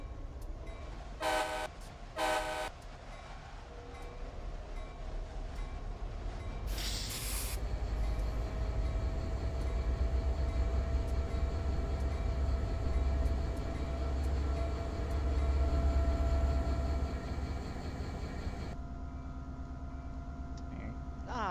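An Amtrak Pacific Surfliner train in Train Simulator 2017 pulls away from the platform: two brief horn toots, a burst of air hiss, then a steady rising rumble of engine and rolling wheels that continues before easing off.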